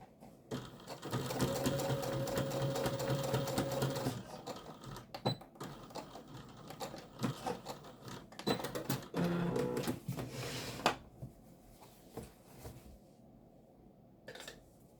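A sewing machine stitches a homemade tablet case, running in a few bursts with pauses and small clicks between, fairly quiet and close, stopping at a seam.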